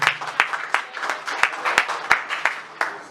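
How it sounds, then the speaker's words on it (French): A congregation at a Ndé cloth celebration gathering in Abu Dhabi applauds after a prayer. The clapping settles into a steady, rhythmic beat with sharp, evenly spaced claps over a dense bed of applause. "Applaudissez pour la maman qui a fait la prière"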